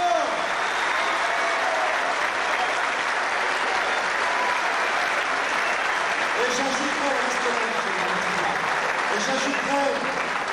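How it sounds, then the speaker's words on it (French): A crowd at an American full contact boxing exhibition gives a sustained round of applause for the organisers. The clapping is steady and dense throughout, with voices and shouts rising over it in the second half. "Vous pouvez leur faire une salve d'applaudissements"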